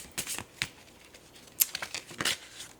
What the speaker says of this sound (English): I'm going to shuffle them and pull from the top of the deck.